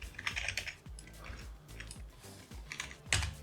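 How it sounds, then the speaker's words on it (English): Fast typing on a computer keyboard, a close, irregular patter of clicks in uneven bursts, with a louder cluster of keystrokes near the end and no one speaking. "So what we'll do is we'll type in"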